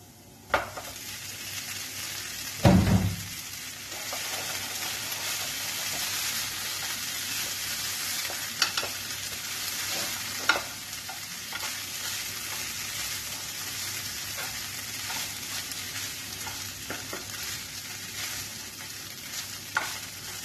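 Flattened red rice (chire) being stir-fried in a pan for a pulao, with a steady close sizzle and scraping stirs throughout, a loud clatter near the start and occasional utensil knocks.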